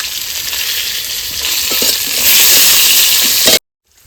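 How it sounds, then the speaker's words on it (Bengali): Potato pieces seasoned with salt and turmeric fry loudly in oil, a dense bright sizzle that swells toward the end before cutting off abruptly. "তো আলুটা ভাজা হয়ে গেছে আলুগুলো উঠিয়ে নেবো"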